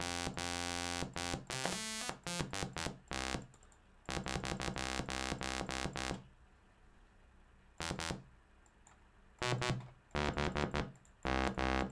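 Sylenth1 software synthesizer notes pushed through a limiter set to fallback mode sound harsh, buzzy and distorted. Chords and repeated stabs start and stop abruptly, with no talking.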